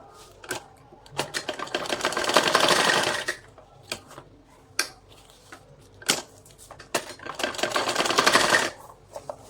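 A sewing machine stitching a salwar runs in two sustained whirring bursts, each a few seconds long, separated by sharp clicks and handling knocks from close by.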